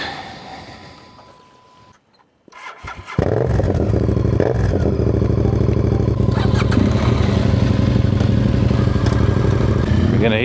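A motorcycle engine runs steadily and loudly close up while riding on a Botswana–Namibia road trip, after a quieter start and a brief dip before the roar builds and holds.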